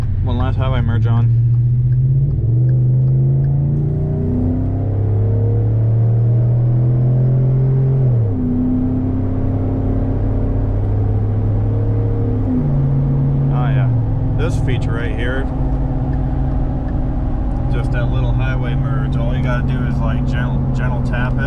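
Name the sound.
pickup truck accelerating onto highway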